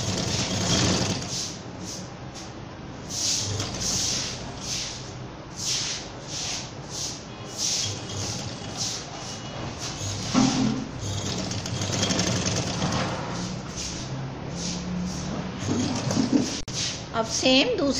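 A sewing machine stitching pleats on a baby girl's frock: steady, fast rhythmic needle clatter running throughout in short repeated bursts, with someone talking over it.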